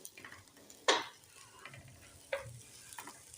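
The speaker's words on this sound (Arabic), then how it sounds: "الرزاية ذات نفسها زي ما تكون كده بتتحمر معاكي وبتخف كده في ايدك وانت بتقلبي." Rice for Alexandrian koshari is stirred and fried in a pot, making a soft, close sizzle with a couple of sharp scraping knocks of the spoon against the pot.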